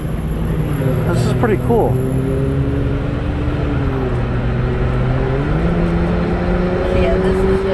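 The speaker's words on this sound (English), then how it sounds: "You can't see the cars. You can hear them, though. You can certainly hear them going by." Race cars at the Indianapolis 500 roar past in a steady, loud engine drone with rising and falling pitch sweeps as they go by, while people talk excitedly over the noise.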